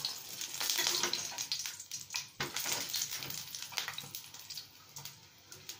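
Oil sizzling and sputtering in a pan with a little water in it while cooking pumpkin flower dishes, a steady close crackling hiss with sharper pops throughout.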